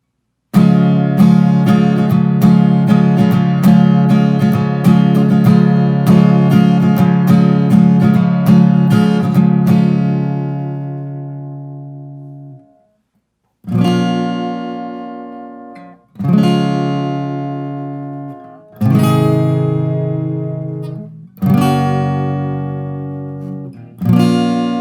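Acoustic guitar strumming a chord progression: a steady strummed run of chords for about twelve seconds, then a brief pause and four separate ringing chords, each struck once and left to decay.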